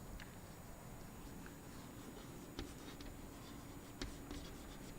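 Chalk scratches and taps faintly across a classroom board as a word is written, in short irregular strokes with a few sharper knocks over a low background hiss.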